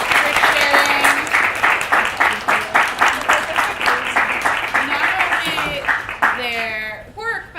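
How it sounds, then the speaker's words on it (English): An audience applauds artists at a craft event, the clapping loud and close with a rhythmic, pulsing beat for several seconds before fading into a short burst of voices. "I really want to give a round of applause to our amazing artists"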